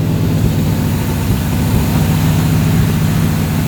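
An old Lincoln Mark V, revived after 30 years, idles with a loud, steady low rumble that drones on evenly throughout with no voices.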